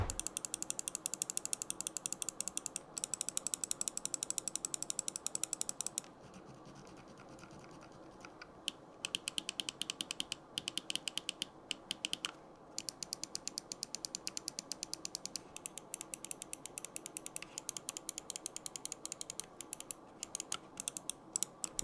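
Rapid, dense clicking of Xtrfy MZ1 gaming mouse buttons, sharp and close, continuing almost nonstop with a brief lull partway through.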